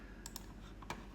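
Quiet typing on a computer keyboard: a few sparse, sharp key clicks at irregular intervals over a low background hum, no voice.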